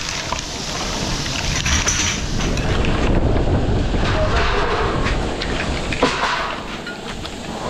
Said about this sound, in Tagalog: Okay, malakas yung hangin.